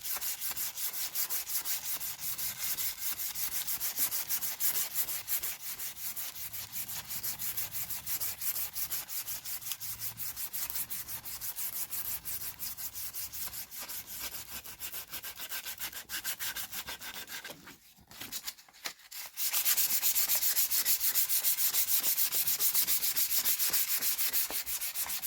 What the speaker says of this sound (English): give it a bit of a sanding